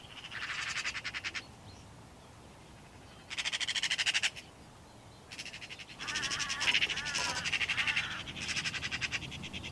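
A hooded crow perched in a distant tree gives repeated harsh, rasping caws in several bursts of rapid calls, fairly faint against a quiet outdoor background.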